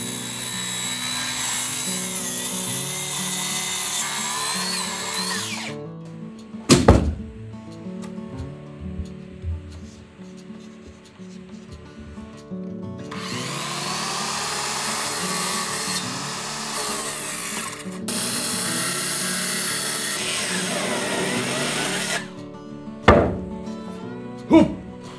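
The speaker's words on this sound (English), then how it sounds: "Now, I'm going to cut the desktop." Power saw cutting through a laminated Japanese ash desktop for an L-shaped study desk, a loud sustained whine in long passes broken by short pauses and a couple of sharp knocks near the end.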